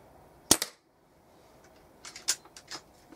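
A Weihrauch HW97 air rifle fires a single sharp crack up close with a short echo. Fainter clicks and mechanical clatter follow a second later.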